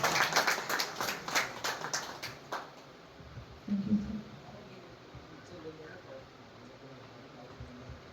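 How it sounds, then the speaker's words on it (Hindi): Audience applause at an award ceremony, a burst of clapping for about two and a half seconds that then fades into quiet room noise. "तो एक बार जोरदार तालियां हमारे बॉस भाई के लिए।"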